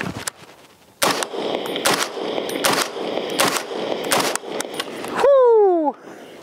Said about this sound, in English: Here we go, first 5 rounds.